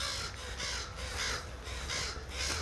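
A crow cawing in a garden orchard, a loud, harsh call repeated about five times in an even rhythm at a moderate distance, with no talking.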